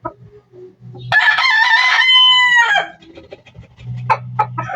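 Backyard chickens, traditional gamefowl bloodline stock, with a rooster giving one loud, long crow between quieter clucks and scattered low background noises.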